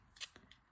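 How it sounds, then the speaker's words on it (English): Tiny scissors from a gacha mini stationery kit open with a quick, faint metallic snip followed by a couple of soft small clicks. "even the scissors open."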